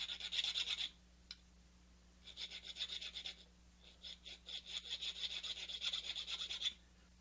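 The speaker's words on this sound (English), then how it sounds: "So now I'm going to flatten this with a file and kind of polish it, make sure it's not real sharp. I'll polish it with sandpaper." Metal file and sandpaper working a flattened large nail, close rhythmic rasping strokes in several bursts with short pauses between, over a faint steady hum.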